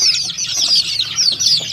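Nine-day-old Rhode Island, Black Australorp and native chicks peep in a steady, high-pitched chorus close by, a dense cheeping with no voices over it.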